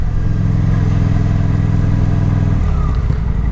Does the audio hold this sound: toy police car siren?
no